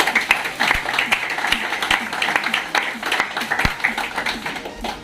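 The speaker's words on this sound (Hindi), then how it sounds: "इनके लिए जोरदार ताली" An audience at an award ceremony claps steadily and loudly for about five seconds, a dense patter of many hands with a few sharper close claps standing out.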